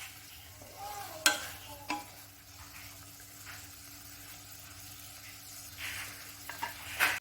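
Paneer sizzles as it fries in butter in a pan, a steady soft crackle under occasional scraping stirs and light clinks of a utensil.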